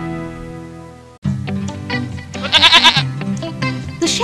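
A sheep in a flock near a village in an animated children's story gives a loud, wavering bleat of a second or so over light background music, with shorter calls around it.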